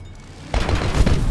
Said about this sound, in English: As you can see with the Gatling cannons, there's a noticeable bit of wind-up